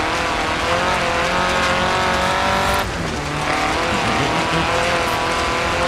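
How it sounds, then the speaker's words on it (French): Race car engine roaring at sustained high revs in the Forza Horizon 3 driving game, loud and continuous with a brief dip and tire squeal midway before picking back up, no talking. "elle va pas si vite que ça cette voiture, elle va qu'à 150 je crois"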